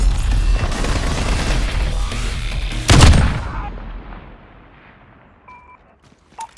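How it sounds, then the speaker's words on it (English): Cruise missile strike in Call of Duty Modern Warfare: heavy rumbling gunfire and blasts build to a sharp, loud explosion, then a long fading decay into near silence with a few faint beeps. "Jaguar 2-0, cruise missile away."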